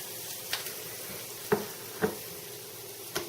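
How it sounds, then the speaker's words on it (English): Quiet sizzling of onions sauteing in a pan, with a few soft clicks and taps of stirring scattered through. "Make sure you're sauteing, moving them around."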